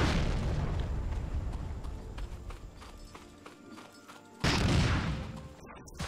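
A tank cannon firing in Medal of Honor, a deep rumbling boom fading into the background, followed by a second loud nearby explosion that hits suddenly and decays.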